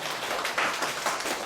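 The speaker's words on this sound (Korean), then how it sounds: "그럼 제가 박수 조금만 받고요" A small lecture audience at a library talk on real estate auctions gives a brief round of clapping, a dense, soft patter of hands lasting only a moment in a roomy space.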